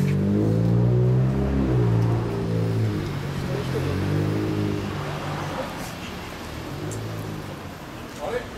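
A Honda Dream CB750 Four (CB750K0) motorcycle with a one-off stainless exhaust rumbles loudly and revs up and down at close range, its low growl gradually settling toward a steadier idle.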